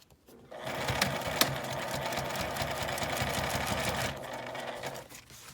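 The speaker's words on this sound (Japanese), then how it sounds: "折り返して表から端ミシンをかけておきます。" A sewing machine topstitches the edge of a zipper pouch made from matte laminated fabric, running in one steady close whirring burst of rapid needle strokes for several seconds before stopping.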